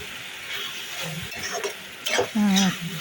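Chopped tomatoes fry in a hot wok (kadai) for butter chicken, a steady close sizzle with scraping stirs and a louder burst of spatter toward the end, no one talking.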